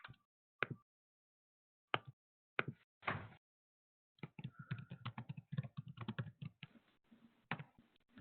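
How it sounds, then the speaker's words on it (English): Keyboard typing in bursts, sporadic keystrokes at first and then a steady, busy clatter of keys, close and fairly loud with no talk over it. "Serious typing."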